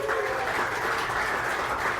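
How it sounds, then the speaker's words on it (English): Applause from a live audience at a queer comedy podcast show in Chicago, a dense even wash of many hands clapping that holds steady without pause. "I love clapping for queer shit."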